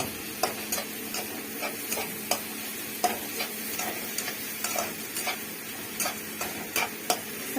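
Green and red chillies fry in a pan with a soft steady sizzle, while a utensil scrapes and clicks against the pan at irregular intervals as they are stirred.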